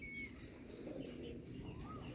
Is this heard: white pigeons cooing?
yes